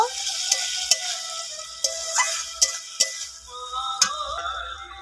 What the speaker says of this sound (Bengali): জল দিয়ে মশলাটা আর খানিক্ষণ কষে নেব